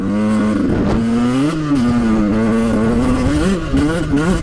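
A two-stroke dirt bike engine runs loud and close on a trail, its buzzing pitch rising and falling as the throttle is blipped and held through continuous revving.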